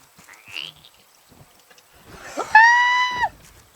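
A person lets out a loud, sustained scream near the end, preceded by faint scattered noises, over a quiet background during play of the survival game Raft.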